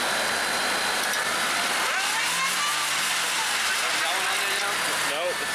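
A stuck Honda Civic revs hard as its wheel spins, a continuous loud engine drone with rising and falling pitch sweeps, while people talk over it.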